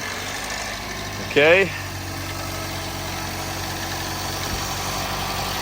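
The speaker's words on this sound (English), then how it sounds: "so we're starting this Jeep up." A Jeep engine idles in a steady low rumble throughout, with one short spoken word near the start.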